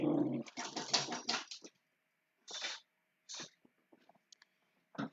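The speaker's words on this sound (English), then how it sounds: "do you hear my puppies?" Small puppies yap and whimper close by in a quick cluster of high cries, then fall to scattered short yelps and whines with pauses between them, in an indoor home setting.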